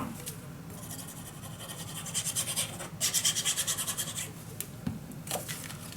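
Paper being burnished flat with a hand tool while assembling a box mini album, giving close, dry rhythmic rubbing and scraping strokes that come in short bursts with brief pauses.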